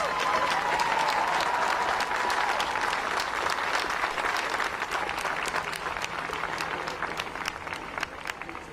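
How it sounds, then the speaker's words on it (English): A crowd at an outdoor Black Lives Matter protest at Kansas City City Hall breaks into sustained applause, a dense, steady wash of clapping that holds strong before easing slightly at the end. "Can we have a round of applause for the people that are here to take care of us and our medics?"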